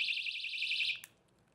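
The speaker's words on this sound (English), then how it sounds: "So what a personal alarm does is just makes a ton of noise." A personal safety alarm shrieks with a loud, piercing, steady electronic tone that warbles slightly for about a second, then cuts off abruptly.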